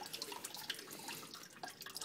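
Engine oil dripping from a Corvette C6 during an oil change, a quiet run of small irregular drips and trickles, faint and close, with no talking.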